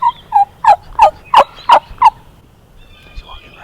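A wild turkey gobbles in a rapid burst of repeated calls on Wisconsin public land during the spring season, the loud notes fading into quiet woods afterward.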